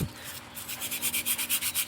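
Sandpaper rubs back and forth across a surface in a steady rhythm of quick scratchy strokes, close and fairly quiet, while sanding on a crayfish farm.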